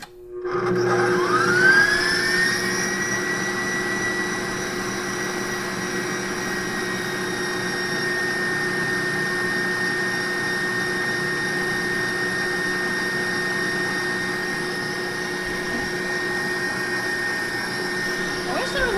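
An electric mixer whips lavender tallow body butter with essential oils, a steady whirring drone that holds loud and even from start to finish after a quick spin-up.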